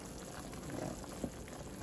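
A pot of native chicken sinampalukan stew with liver and heart simmers on the stove, giving a faint, steady bubbling with one small pop near the end, no voices.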